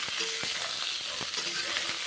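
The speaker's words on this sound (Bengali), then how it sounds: "ফুলকপিগুলো ভাজা হয়ে গেলে তারপরে মাশরুমগুলো ভেজে নেব বেশ ভালো করে ভেজে নিচ্ছি" Cauliflower and mushrooms fry in oil with panch phoron, a steady broadband sizzle with a few soft knocks of stirring, close and even throughout.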